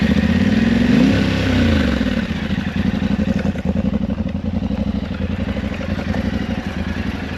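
A Yamaha Tenere adventure motorcycle engine runs close by on a trail ride, a steady mid-pitched drone with a brief rev early on, then a rougher, clattering rumble as it rolls along.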